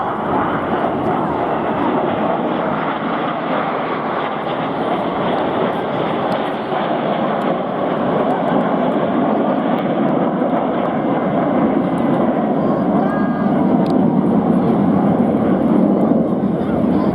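Red Arrows display jets roar overhead at the 2022 Swansea Bay air show, a loud, steady, broad engine rush that holds for the whole stretch, with commentary blending in underneath.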